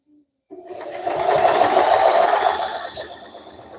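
A domestic sewing machine runs a short burst of stitching through fabric, a close, loud mechanical whir that ramps up after a brief start and eases off near the end.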